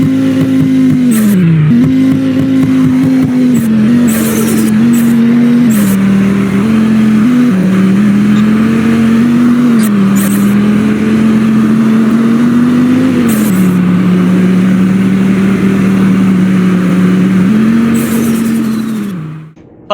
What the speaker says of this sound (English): Also have another clip of turbo sounds up on screen.